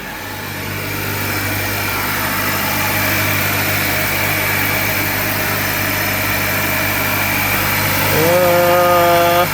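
A rebuilt 2023 Acura Integra engine idles with a steady, fairly loud hum and a faint whine on top, then rises briefly in pitch just before the end.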